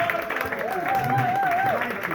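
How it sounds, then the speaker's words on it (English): A comedy club crowd greets the headliner with loud, sustained applause and cheering, dense clapping that fills the room, with a rising whoop over it. "I've done nothing to deserve that applause."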